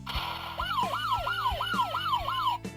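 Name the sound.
police siren sound from Patranger Sentai Gear toy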